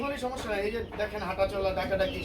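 Maltese pigeons coo softly at a pigeon sale, their low rolling calls mostly buried under the continuous talk of nearby people.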